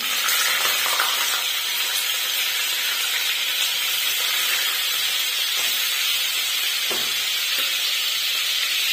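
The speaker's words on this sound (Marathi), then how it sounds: "मी उकडून न घेता पनीर डायरेक्ट तळून घेणार आहे" Paneer fries in hot oil in a kadhai, giving a loud, dense, continuous hiss and sizzle that holds steady throughout.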